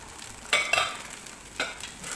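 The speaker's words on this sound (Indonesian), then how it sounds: "Aduk sampai rata guys." Fried rice with spring onions stir-fried in a pan: a soft continuous sizzle broken by two distinct scraping bursts of the spatula, close and without talk.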